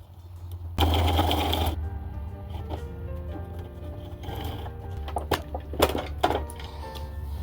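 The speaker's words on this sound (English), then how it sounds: "I am going to have to sew mine backwards like this, because my sewing machine will tear up my zipper" A sewing machine rattles in a short whirring burst, followed by scattered mechanical clicks and taps as it stitches a zipper onto a crochet bag liner.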